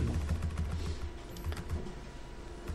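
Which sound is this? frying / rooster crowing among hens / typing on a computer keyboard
typing on a computer keyboard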